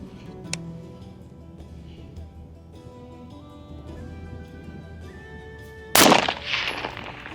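A single sharp rifle shot cracks out loud and close at a long-distance shooting range, its burst trailing off into a brief echo over a quiet background hum.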